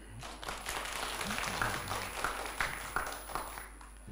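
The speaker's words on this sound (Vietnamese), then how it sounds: "xin cho một tràng pháo tay" Delegates at a cardiology association congress give a round of applause, a fairly faint patter of clapping from a room of people with a few louder claps rising out of it and a steady background hum.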